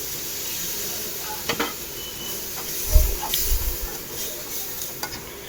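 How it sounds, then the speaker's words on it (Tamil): Boiled goat lungs are stirred and sautéed through tomato masala in a hot pan, a continuous sizzle broken by scraping spoon strokes and a louder burst of stirring and clatter midway. "வேக வச்ச நுரையீரலை சேர்த்து நல்லா கிளறிக்கிறோம்."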